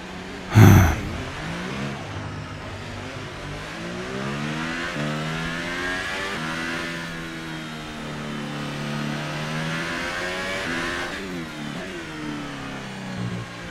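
Formula 1 car engine in F1 2018 revving steadily through rising and falling gear sweeps during a qualifying lap at Abu Dhabi, loud and continuous, with a sharp knock near the start.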